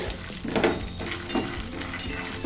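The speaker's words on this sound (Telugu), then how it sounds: "ఈ పల్లీలు పచ్చిమిరపకాయలు వెల్లుల్లిపాయ వేగితే సరిపోతుంది సో చూస్తున్నారు కదా సౌండ్ అదంతా కూడా వస్తుంది" Peanuts, green chilies and garlic frying in hot oil in a pan, with steady sizzling and crackling and a few scraping stirs, close and moderately loud throughout.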